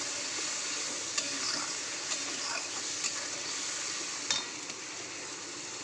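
Spice paste, thinned with a little water, frying in oil in a kadai for tel koi fish curry: a steady, moderate sizzle with a few soft stirring clicks and scrapes, no talking.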